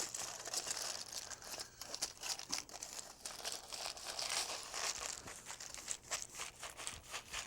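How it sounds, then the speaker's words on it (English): Aluminium foil crinkling and rustling as basil butter is rolled into a log, a continuous close crackle with irregular sharp crunches, fairly quiet throughout. "Now we use the foil to help form it into the log shape that we need."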